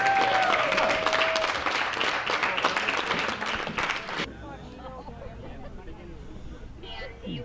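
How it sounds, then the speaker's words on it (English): A crowd at a Relay for Life charity event claps loudly and steadily for several seconds, with a few whistles, then the applause cuts off and a room murmurs quietly with scattered talk. "Nice round of applause"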